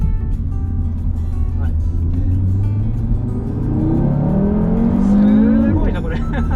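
An Audi RS3 with a dual-clutch gearbox accelerates, its engine note climbing steadily and loudly up close, then breaking off sharply at a quick gear shift, with a person talking over it.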